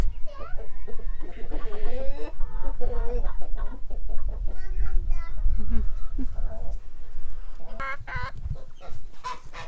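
Chickens cluck and squawk busily close by while being fed bread, while people, including a child, talk over the noisy flock.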